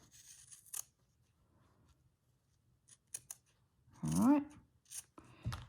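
Sharp scissors snip and trim fabric for a slow-stitched zipper in a few close, quiet cuts, followed by a longer rustling slice, with brief soft speech between cuts.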